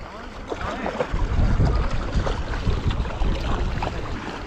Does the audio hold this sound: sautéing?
no